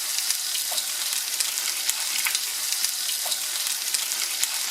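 Giant river prawns sizzle steadily in hot oil with tomatoes, garlic and ginger for a marinara sauce, a bright continuous frying hiss with small crackles and no talk.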